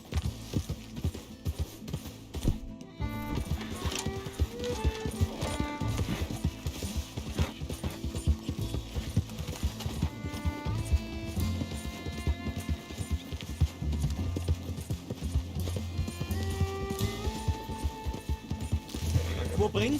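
A horse gallops in the Red Dead Redemption 2 video game, steady hoofbeats drumming under a constant music bed, while voices talk over the riding.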